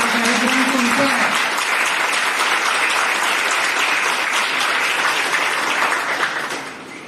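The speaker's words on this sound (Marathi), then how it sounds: "जितक्या जोरात टाळ्या वाजवतो ते आपलं पण आवाज गुंजून गेला पाहिजे." A school audience at an Independence Day celebration claps loudly and continuously, dense applause filling the hall before tapering off near the end.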